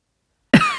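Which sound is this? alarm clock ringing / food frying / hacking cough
hacking cough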